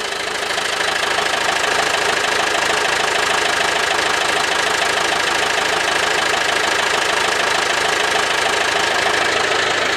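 A Taavetti tractor engine runs after a cold start, a loud, steady, close mechanical clatter with a dense knocking rhythm that continues unbroken throughout, with no talk over it.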